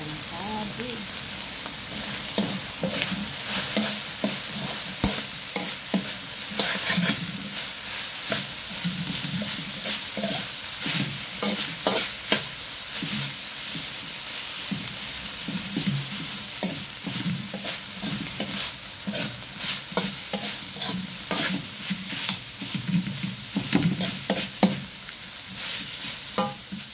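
Cabbage stir-fried in a pan for pancit canton with chicken liver and chicken, a continuous loud sizzle with frequent scraping and tossing strokes of the utensil, close up, with occasional faint talk.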